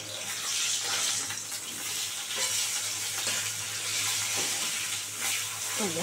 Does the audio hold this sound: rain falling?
no